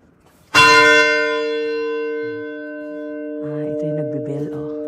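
A church bell before Sunday mass at St. Mary's Church in Sagada strikes once, loud and close, its ringing tone decaying slowly over several seconds while people talk quietly toward the end.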